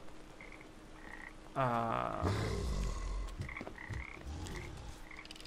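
Frogs croaking in the video game Papo & Yo, a repeated rippling croak that swells loudly midway, with a voice speaking briefly near the end.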